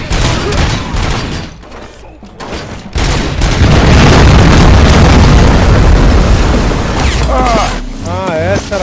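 A bomb explosion in a RoboCop scene erupts as a loud, sustained roaring blast with crackling debris and rumbling booms, then fades while voices speak near the end.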